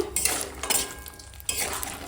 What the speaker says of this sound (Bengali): তেল গরম হয়ে গেছে বড়িটা ভেজে নিচ্ছি